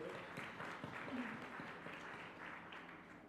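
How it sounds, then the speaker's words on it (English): Applause from an audience at a justice sector reform launch event in Kenya, heard as a soft, distant patter of clapping that runs steadily throughout. "a round of applause for all of you"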